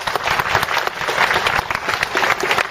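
Applause from a crowd at a labor union rally in Jeonju held by SK Broadband and LG U+ union members, steady, dense clapping throughout, fairly close and loud.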